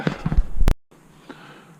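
One sharp air rifle shot fired at a target, a single loud crack that cuts off abruptly after a brief stretch of handling noise, followed by near silence and a faint click.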